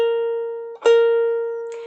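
A single ukulele string rings out clear and sustained, a steady pitched tone that is briefly interrupted by a soft pluck or touch partway through before ringing on.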